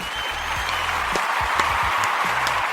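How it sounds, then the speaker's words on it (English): A short round of applause from a small group, steady clapping at a moderate level that carries on throughout, with low rumbling sounds underneath. "you get a subtle round of applause"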